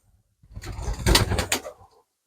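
A single soft, throaty pouter pigeon coo swells and fades nearby, low and breathy, with nothing else around it.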